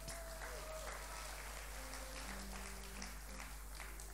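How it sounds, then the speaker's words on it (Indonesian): Audience applause for a performer at a live stage talk, a steady wash of clapping at moderate level with a faint hum beneath and a sustained tone early on. "Kasih tepuk tangan buat koboi kita ini."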